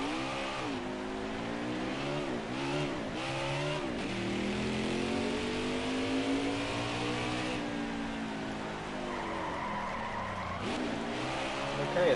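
A NASCAR race car in the video game NASCAR Heat 5, its engine droning and rising and falling through gear changes while tyres squeal and skid, steady and continuous for about twelve seconds.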